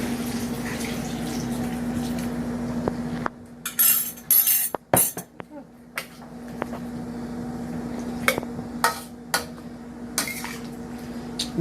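Water with dissolved bouillon is poured into a dish in a home kitchen while making vegan chicken pot pie, with a steady trickle, splashing and a few clinks of cutlery and pots, close up and without talk.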